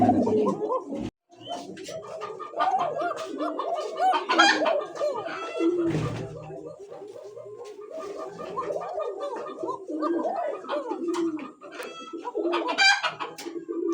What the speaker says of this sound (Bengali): একজোড়া বাসিরাজ ককা কবুতর হ্যাঁ ডাক তো শুনতেই পাচ্ছেন